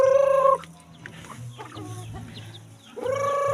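Chickens clucking close by on a farm, with a loud harmonic call at the start and again near the end and softer scattered clucks and rustling between.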